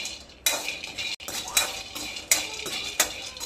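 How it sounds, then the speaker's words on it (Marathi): Peanuts dry-roasting in a metal pan, stirred with a utensil that gives close, abrupt scraping and rattling bursts at irregular intervals, with no talk. "भाजीला कूट संपलेला आहे म्हणून मी शेंगदाणा भाजून घेत आहे"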